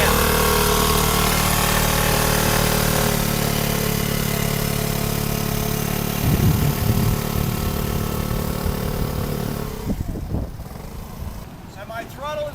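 Scooter engine running steadily with the throttle on and rear brake applied, a continuous mid-pitched engine drone that holds level for most of the stretch and then eases off near the end.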